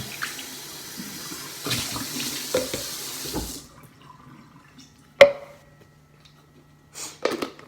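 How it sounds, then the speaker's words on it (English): Tap water runs into a sink and rinses through breast pump parts and bottles, a steady splashing stream for the first few seconds that then stops, leaving faint clinks and a sharp knock. "Just run water through it. As you can see, the water's coming out."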